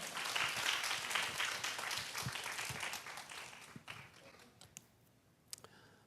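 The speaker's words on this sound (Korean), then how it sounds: "우리 큰 박수로 우리 선교사님 맞이하도록 하겠습니다." Church congregation applauding to welcome a missionary, a full round of dense clapping that fades out over several seconds, leaving a few scattered claps and small noises at the end.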